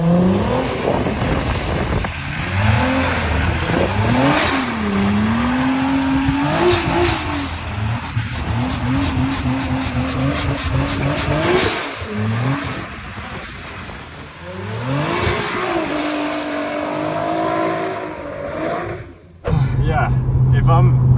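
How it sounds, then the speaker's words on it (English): A 900 hp rear-wheel-drive Nissan GT-R R35 doing drifting donuts on a mountain street, engine roaring loud and close with rising and falling revs, bouncing limiter and tire squeal, ending in an abrupt cut. "I'm a bit dizzy from the donuts now."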